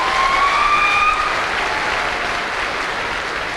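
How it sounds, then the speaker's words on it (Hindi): Enthusiastic applause from an audience at a motivational seminar, a dense, steady wash of clapping that holds at full strength throughout, with a faint tonal whistle briefly gliding above it near the start. "मैं चाहता हूँ दिल से योगेश यादव के लिए जोरदार तालियां बजाइए।"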